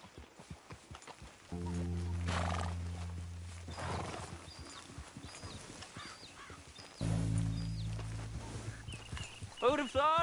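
Horse in Red Dead Redemption 2: hooves clip-clop and a horse neighs amid game ambience and low droning tones, with a short whinny near the end.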